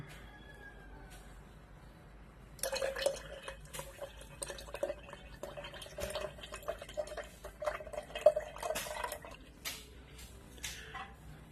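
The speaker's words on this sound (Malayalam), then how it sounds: "നമ്മൾ നേരത്തെ പിഴിഞ്ഞു വെച്ചിട്ടുള്ള പുളി അതിന്റെ ആ വെള്ളം ഇതിലേക്ക് ഒഴിച്ചു കൊടുക്കാൻ വേണ്ടി പോവാണ്" Tamarind water is poured into a kanthari chilli pickle mixture: after a quiet start, liquid splashes and trickles steadily into the pot at close range, with small clinks along the way.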